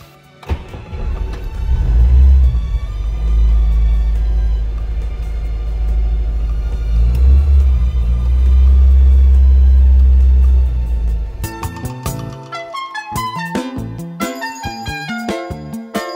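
A Volga GAZ-21 car drives with a heavy, deep engine rumble that swells and eases for several seconds, followed by a run of bright, ringing chime-like tones.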